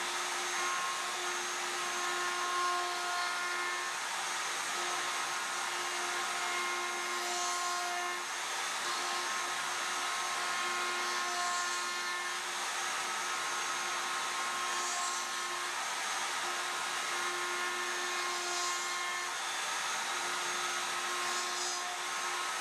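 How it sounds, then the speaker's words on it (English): A router fitted with a chamfer bit shapes the edges of wooden lift-lid box lids, giving a steady, loud high-pitched whine that holds at one level with no pauses and no voices. "I'm going to change in my router bit from the straight bit to the chamfer bit."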